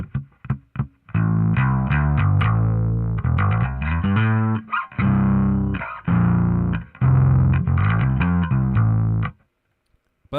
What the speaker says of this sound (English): This is just modeling a dark glass pedal.